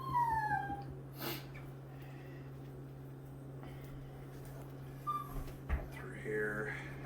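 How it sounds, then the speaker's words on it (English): A small dog whimpers and cries near a kitchen where brisket is being trimmed, with high-pitched whines and yips at the start and again toward the end over a steady appliance hum. "I'm sure you can hear my little dog there crying."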